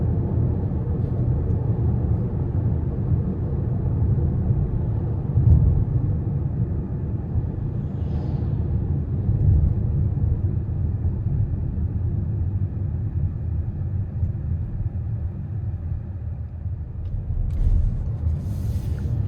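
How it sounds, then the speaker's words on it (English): Steady low road rumble and muted tire drone inside a 2026 Toyota Crown Platinum Hybrid on 21-inch wheels while driving, a constant quiet cabin hum with no voices. "Road noise is good."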